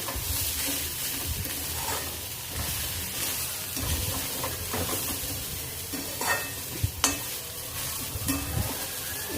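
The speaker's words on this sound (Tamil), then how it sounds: "அடுப்பு ஆஃப் பண்ணிட்டே கிளறிடலாம்." Chickpeas sizzle in a hot pan while a spoon scrapes and stirs, with a couple of sharper clinks near the end.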